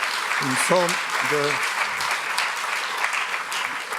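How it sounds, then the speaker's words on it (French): Audience applause after a university presentation about student projects, steady dense clapping filling the room throughout, with a voice briefly speaking over it near the start. "On les applaudit très fort"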